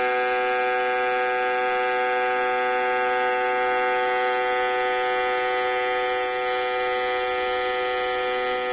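Fuel injectors pulsing on an AUTOOL CT-150 injector cleaner, one of them clogged, producing a steady, close electric buzz with a constant high whine throughout, no voices.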